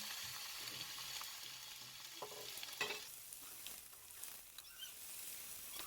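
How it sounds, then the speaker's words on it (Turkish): Ground beef, 250 grams, browns with a spoonful of butter in a preheated pan: a soft, steady sizzle broken by faint stirring scrapes, fairly quiet and with no voices. "bir yemek kaşığı tereyağımı ekleyerek rengi çıkana kadar kavuruyorum"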